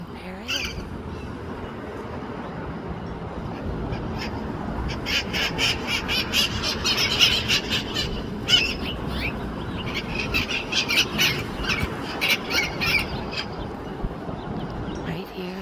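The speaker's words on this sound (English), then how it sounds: "Hi, green parrot." Wild green parrots squawk outside a home in Redondo Beach, California, with repeated harsh calls rising and falling at mid distance over outdoor background noise.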